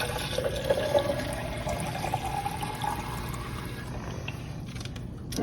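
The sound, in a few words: water poured over tomato seeds to rinse them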